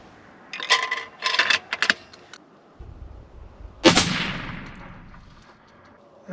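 A long range rifle shot cracks out loud and close, with its boom rolling away into a long fading tail, preceded by a few clattering handling sounds and no talking.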